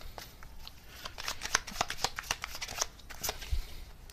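Tarot cards being shuffled and drawn by hand, a quick series of crisp, close riffling flicks and snaps, fairly quiet, with no talking over them.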